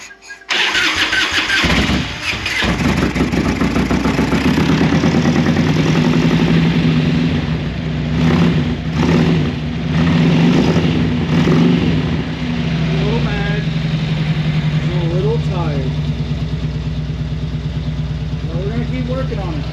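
A car engine cranks and fires up, then settles into a loud, rough, uneven idle that runs steadily. The close engine noise stays on top, with a few faint background sounds near the end.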